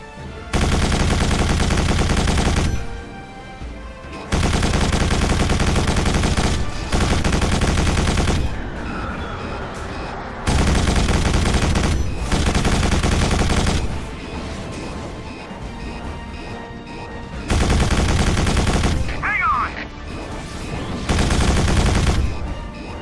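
Turret gunfire in the Quake 4 video game on Xbox 360: loud, dense bursts of rapid shooting that cut in and out in repeated volleys, with short quieter gaps between.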